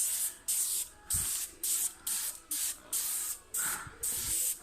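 Spray adhesive is applied to the edge of a laminate kitchen worktop in about nine short, sharp hissing bursts, evenly spaced with brief pauses between, close and loud with no voices.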